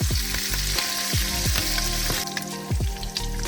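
Curry leaves drop into frying ginger and garlic in hot oil, setting off a loud, steady sizzle. A spoon scrapes the pan again and again in a quick stirring rhythm.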